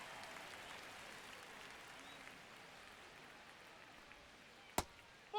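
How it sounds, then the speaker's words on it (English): A baseball crowd in MLB The Show 25 swells into a broad, steady roar of cheering at a distance, followed by a sharp crack near the end. "Be 3-2, and the crowd gets on their feet."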